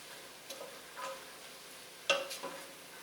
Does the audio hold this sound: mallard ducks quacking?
no